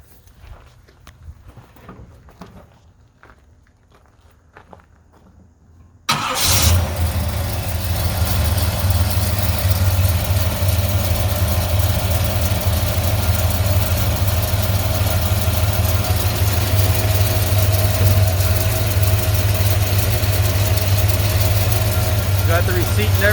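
A 1972 Chevrolet Suburban with a new 350 crate motor fires up on a cold day after some quiet shuffling and voices, then settles into a loud, steady, deep idle that runs on continuously while people talk over it.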